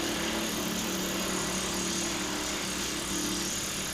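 A Jinma wood chipper driven by a Kioti 19hp tractor runs at a loud, steady roar with a constant droning engine tone, feeding wood without pause and with no voices.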